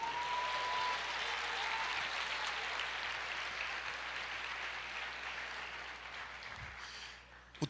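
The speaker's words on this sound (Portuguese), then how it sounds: "aplauda o Senhor" Church congregation applauding together, a dense sustained wash of clapping that holds steady for several seconds, then thins and fades out with a final stray clap.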